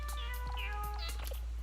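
A cat-suit instrument in the Wii Music video game gives several short, tonal meows in quick succession, bright and close, with no talking.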